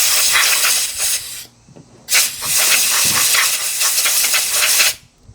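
Compressed air blasts out of a freshly drilled hole in metal, two loud close hissing bursts separated by a short pause, with no talk.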